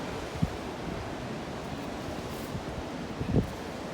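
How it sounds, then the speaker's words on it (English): Blustery sea wind on a clifftop hisses as a steady, fairly quiet broadband wash, with a couple of brief low gust thumps against the microphone and distant surf blending underneath. "It's blustery and cool now."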